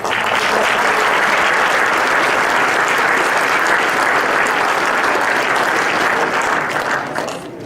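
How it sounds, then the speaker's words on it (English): A large audience at an innovation showcase and awards event applauds loudly and steadily, dense clapping filling the room throughout before easing slightly at the very end. "applause for all 5"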